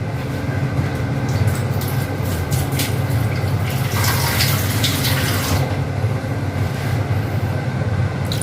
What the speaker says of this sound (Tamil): லைட்டாக தண்ணி ஆட் பண்ணிக்கோங்க.